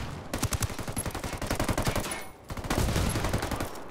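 Automatic and rapid gunfire from the video game Ghost Recon Wildlands, dense repeated bursts of shots rattling for nearly two seconds, a brief pause, then another loud volley of fire.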